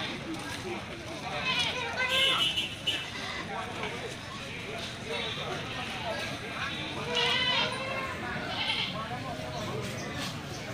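Fat goats at a livestock market for the Qurban sacrifice, with a few faint bleats rising out of a busy background of crowd noise and people talking.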